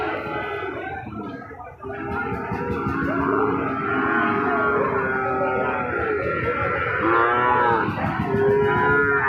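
Cattle, including Friesian bull calves, at a livestock market in Joypurhat, mooing in long, loud, drawn-out calls one after another close by, with a brief pause near the start.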